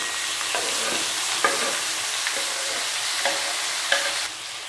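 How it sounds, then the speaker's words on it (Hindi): Paneer cubes and chopped tomatoes fry in a hot pan with a steady broadband sizzle, punctuated by a handful of soft scraping stirs from a spatula; close and continuous, with no talking. "और अब ऐड कर देंगे पनीर। और पनीर थोड़ा सा ऐसे बड़े बड़े साइज में ही कट किया है, और ये चार टमाटर इस तरीके से कट करके वो भी ऐड कर देंगे।"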